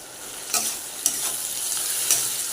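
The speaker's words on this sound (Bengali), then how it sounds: "ফোড়ন হয়ে গেলে পেঁয়াজ আর কাঁচা লঙ্কা টমেটো দিয়ে দিচ্ছি। রসুন বাটা দিচ্ছি, আদা বাটাটা দিয়ে দিচ্ছি" Onion, green chilli, tomato, garlic paste and ginger paste fry in hot oil as the base for a goat meat curry, a steady close sizzle broken by a few brief spoon-stirring scrapes.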